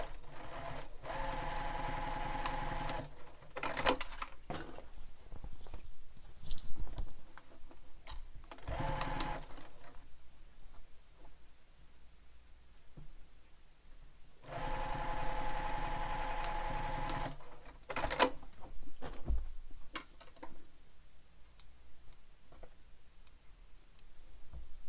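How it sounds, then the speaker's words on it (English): A sewing machine stitches up the side of a fabric backpack in several rapid bursts of mechanical clicking and whirring, separated by quiet pauses, with no talking. "And then I'll stitch up the side."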